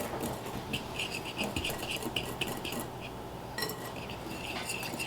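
Dry muffin ingredients for blueberry muffins being stirred in a bowl, a steady scraping and clinking of a utensil against the bowl with repeated light taps, close and continuous.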